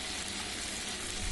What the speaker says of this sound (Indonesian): Masukkan pisang dan adonan, kita goreng pisangnya.